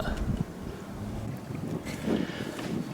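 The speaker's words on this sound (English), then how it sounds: "There are a few waves here causing the kayak to move a bit." A kayak rocks on small waves, giving a close, continuous sloshing and muffled rumble of water with wind buffeting the microphone.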